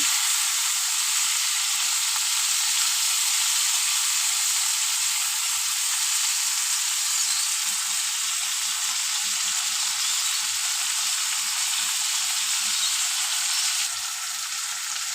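Peeled pointed gourd (potol) fries in a pan with a loud, unbroken hiss of oil sizzling close up, holding steady for the whole stretch with only a slight drop at the end.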